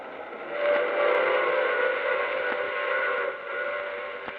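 A train rumbles steadily with a sustained, wavering whistle tone over the noise, fairly loud and continuous throughout.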